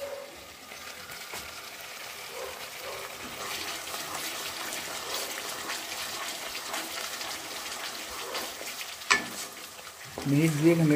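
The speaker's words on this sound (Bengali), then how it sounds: "মিনিট 2 আমি এটা ফ্রাই হতে দেবো।" Palak chicken, spinach and chicken, frying in a pan at home, giving a steady close sizzle with occasional stirring, a sharp clink near the end and louder scraping and spitting in the last second.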